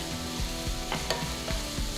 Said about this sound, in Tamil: பெரிய வெங்காயம் நறுக்கின பூண்டு கொஞ்சம் கருவேப்பிலை சேர்த்து நல்லா வதக்குங்க